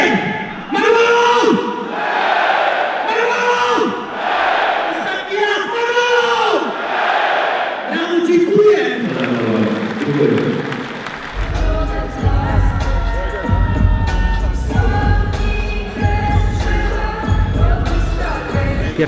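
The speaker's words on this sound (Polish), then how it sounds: "Jak krzyknął Manolo, a cała hala krzyknie, hej" A full arena crowd at a KSW 71 MMA gala shouts "hey" together in repeated loud, rhythmic bursts, then dissolves into a dense roar of cheering and noise.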